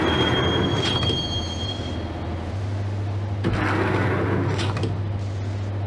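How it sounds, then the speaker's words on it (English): A subway train in the Max Payne video game rides along with a low, steady rumble and hum, as metal wheels give high squeals near the start and again later, alongside faint rail clatter. "the train doors had already shut behind me, and I was in for the ride"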